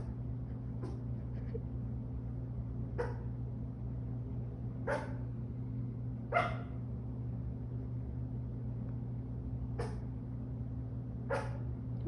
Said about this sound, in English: I actually got this on camera of him growling and kind of like barking at something